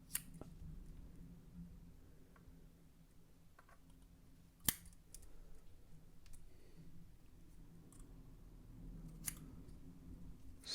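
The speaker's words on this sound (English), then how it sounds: "I'm gonna cut it off there, snip some of the side." Scissors snipping cotton wick for a DJV RDTA v2 vape atomizer, a few sharp, close, isolated cuts spaced several seconds apart over a quiet background.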